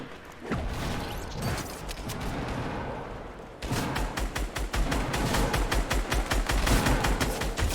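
Rapid video game gunfire plays from a TV, a dense, continuous stream of automatic shots that grows louder and more rhythmic partway through, with no talk over it.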